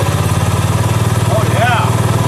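A 1977 Bolens G10 lawn tractor engine runs with a fast, even, pulsing putter close by, while a voice speaks briefly over it.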